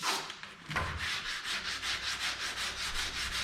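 Paint and clear-coat overspray being sanded with steady, rhythmic back-and-forth strokes, close and continuous, each pass a rough hissing rub.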